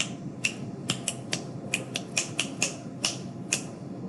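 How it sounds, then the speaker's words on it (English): Finger snaps as simple body percussion for a beginner music class, about a dozen crisp, sharp clicks in an uneven steady rhythm, close and alone without speech. "the first one is going to be super easy, just some snaps"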